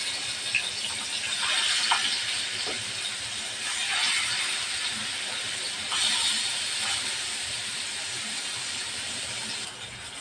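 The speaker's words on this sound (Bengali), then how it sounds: "তেল গরম হয়ে গেছে, দিয়ে দেবো মাছ।" Fish fry in hot oil in a pan with a steady, fairly faint sizzling hiss, broken by occasional soft pops and crackles, with no voices.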